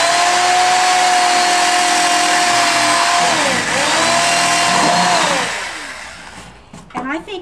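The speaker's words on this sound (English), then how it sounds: "We're going to drill several holes here so we have good drainage." A power drill bores drainage holes into a container for a herb garden, its loud, steady motor whine rising and dipping in pitch as it bites, then winding down and fading near the end.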